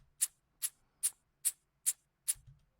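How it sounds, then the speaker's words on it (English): A dry shaker sample plays six crisp, evenly spaced strokes about 0.4 seconds apart, bright and close with no echo trailing between hits, and a soft low thump at the end. "So without the triplet delay, it sounds like this."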